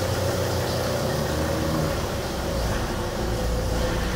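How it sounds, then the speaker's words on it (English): Volvo S80 D5 diesel engine idling steadily after a fuel filter change, a continuous close low rumble with an even, unbroken drone throughout. "we'll just leave it running."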